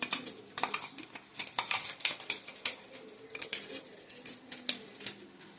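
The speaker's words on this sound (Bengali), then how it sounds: "এই পেস্টটাকে আমের মধ্যে মিশিয়ে নিলাম।" A spoon mixes paste into mango in a dish, with quick, irregular clinks and scrapes against the dish, close and fairly quiet, without talk.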